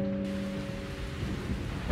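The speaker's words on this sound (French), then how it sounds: "Malgré le bruit de l'orage qui emplissait le château" A thunderstorm with steady rain in an animated fairy tale fills the scene with a continuous low rumble of thunder and a constant hiss of rainfall, fairly faint throughout and without speech.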